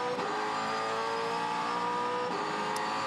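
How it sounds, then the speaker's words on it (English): A V8 touring car racing at Queensland Raceway downshifting from fifth to second, a loud, steady engine roar with brief dips in pitch as the gears change. "He's nice and patient on that downshift."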